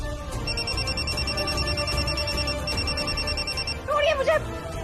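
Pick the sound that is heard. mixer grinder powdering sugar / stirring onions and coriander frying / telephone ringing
telephone ringing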